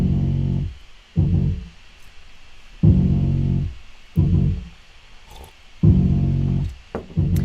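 A deep, transposed sampled bass line throbs in repeating phrases with short gaps between them, loud and alone in a hip-hop production.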